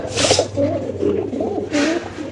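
Silver pigeons coo nearby in soft, low, rolling calls that repeat over a couple of seconds, with brief breathy rustles in between.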